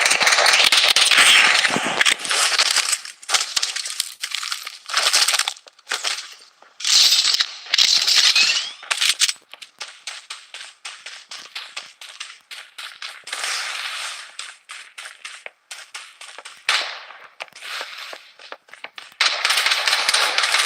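Blood Strike battle royale gunfire rattles in rapid crackling bursts and scattered single shots, some near and loud and others thinner, with brief pauses between volleys over about twenty seconds.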